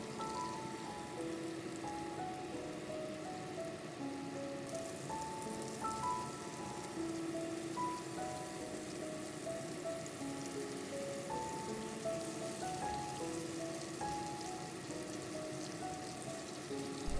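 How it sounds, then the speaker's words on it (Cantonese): Fish fillets sizzle in oil in a wok over medium-high heat for a pineapple fish dish, a steady, soft crackling hiss that continues evenly throughout with no talking. "一件件魚柳排好，用中大火煎大概1分鐘。"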